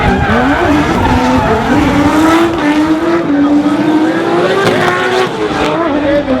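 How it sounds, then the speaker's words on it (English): Drift cars at a D1NZ drifting championship round in Tauranga, including a Castrol Edge Commodore, scream through a continuous loud slide with wailing engines and squealing tires, a commentator's voice faintly audible underneath. "Nico Red doing his best to fend off a hard-charging Castrol Edge Commodore"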